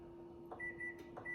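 A microwave oven runs on its melt setting to soften chocolate, giving a steady low hum with a few short electronic beeps at intervals, close by and alone.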